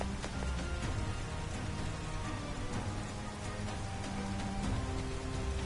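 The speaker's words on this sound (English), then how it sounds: "It just started pouring all of a sudden." Heavy rain pours in the video game Persona 5 Strikers, a dense, steady hiss of falling water with scattered sharper drop impacts, continuous and fairly loud with no talk.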